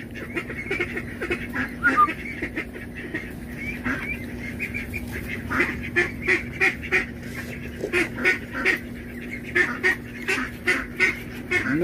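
Geese being hand fed honk repeatedly in quick, irregular bursts, close by over a steady low background hum, with many overlapping calls.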